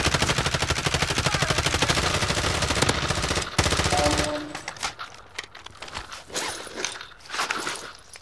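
Rapid automatic gunfire from a Black Ops battle royale trios match, a dense steady burst for about four seconds, then scattered shots and footsteps in a quieter stretch.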